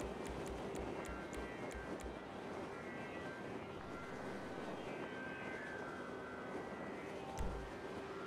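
Aircraft engine idling in a video game cargo session, a faint steady drone with a few quick clicks at the start and one soft thump near the end.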